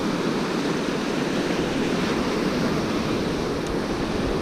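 Choppy winter surf breaks on the sandy shore at Pevensey Bay in a steady, dense wash of noise, with wind buffeting mixed into the constant roar.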